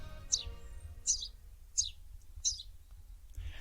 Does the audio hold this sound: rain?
no